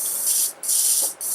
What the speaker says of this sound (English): I spray this on the back of my hand